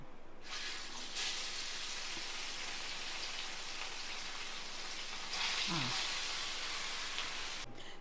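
Fish fries in a pan for an Udupi-style fish fry, giving a continuous, dense, close sizzle like steady rain that briefly swells midway before cutting off at the end.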